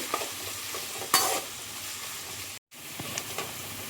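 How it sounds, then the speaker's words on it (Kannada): Onions sizzle steadily in a hot pan as they fry until brown, with a spatula stirring and scraping now and then, close up and no voices. "ಈರುಳ್ಳಿ ಕೂಡ ಬ್ರೌನ್ ಕಲರ್ಗೆ ಬರಬೇಕು. ಅಲ್ಲಿ ತನಕ ಫ್ರೈ ಮಾಡ್ಕೊಳ್ಬೇಕು."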